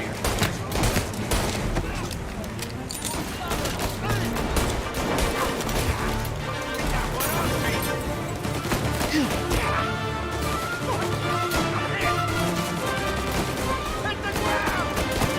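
Gunfire rattles in the Mafia PC game, dense bursts and shots over a busy action mix, while voices shout over the shooting.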